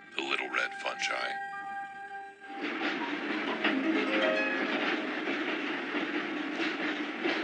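A train rolls steadily along the rails with a continuous rumbling clatter, preceded by a few brief tonal sounds at the start.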